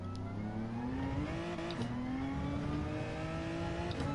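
Race car engine in a racing video game, held high near the redline in fifth gear. The tone is a strained, steady whine that climbs gradually, with one short dip like a lift or a shift, and continues without speech.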